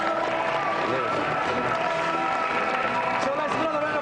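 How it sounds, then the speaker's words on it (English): Steady broadband applause from an audience, dense and even throughout, with no individual claps standing out. "let's give another round of applause for our two guests today, Philip Tufnell and Adam Hollioake."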